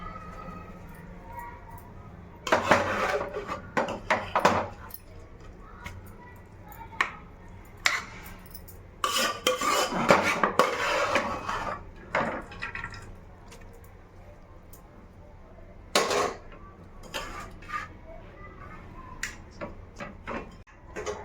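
Rice being added to a pressure cooker while layering chicken biryani, heard as intermittent close rattling pours and clatters with quieter gaps between them.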